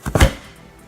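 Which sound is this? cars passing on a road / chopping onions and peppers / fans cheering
chopping onions and peppers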